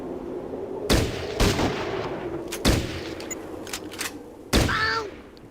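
Gunshots from weapons in Fallout Tactics, several sharp loud reports spaced irregularly over a steady background hum, with no one talking.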